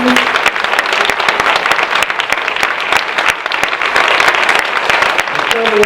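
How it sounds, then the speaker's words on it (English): A crowd applauds loudly and continuously at a holiday charity event, dense clapping filling the whole stretch, with a voice briefly heard under it. "Big round of applause"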